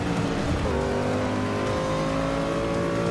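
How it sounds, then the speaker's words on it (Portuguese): Corvette C7R race car engine in Forza Motorsport 6 during a night race, a loud, steady high-revving drone whose harmonics climb gradually in pitch as the car accelerates, with no talking. "Estou seguindo o barulho do motor."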